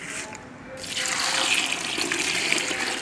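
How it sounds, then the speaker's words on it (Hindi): Water pours steadily into a metal pressure cooker holding rose petals, a broad splashing rush that swells after a brief quieter start and continues without speech. "कुकर में हमने फूल डाल दिए हैं, अब हम इसमें पानी डालेंगे।"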